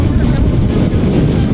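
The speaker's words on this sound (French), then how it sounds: "il y avait tellement de vent" Strong wind gusting across a frozen lake in Quebec in extreme cold, a loud, steady roar buffeting the microphone without a break.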